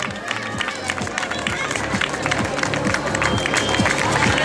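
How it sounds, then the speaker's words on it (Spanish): Spectators clap and cheer steadily as runners reach the finish of a 10K race in a park, a dense near applause with scattered shouts, joined by an announcer speaking over it. "ese aplauso para Carmen"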